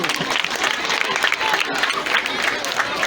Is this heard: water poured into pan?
no